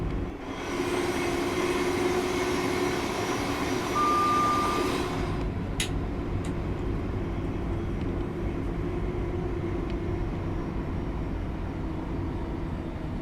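Thameslink Class 700 electric train in Train Sim World 3, a steady broad rolling hum with a high whine for the first five seconds, then a lower continuous rumble with a few brief clicks.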